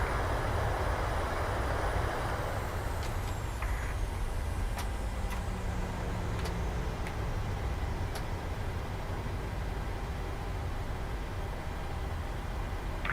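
A simulated PMDG 737-800 airliner brakes on its landing rollout at Pittsburgh in Microsoft Flight Simulator, a steady loud roar and rumble throughout with a few faint clicks over it and no talking.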